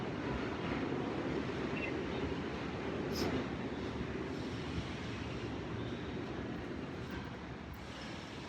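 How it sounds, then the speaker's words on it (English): A train passes, a steady broad rumbling roar that holds at an even level for several seconds with faint rattling on top, heard from some distance. "Train."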